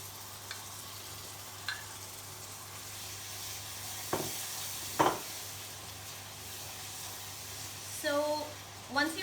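Tomato puree going into frying masala in an Indian home kitchen, giving a low steady sizzle with a few sharp scrapes and clinks of stirring, quiet and close throughout.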